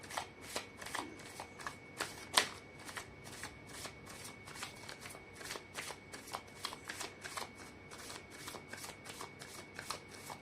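Tarot cards being shuffled by hand in a steady run of crisp riffling bursts, close and fairly quiet, repeating for about ten seconds with no talking.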